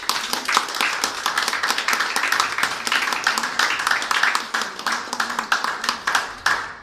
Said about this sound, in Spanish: ¿Cuántos le damos un aplauso a él?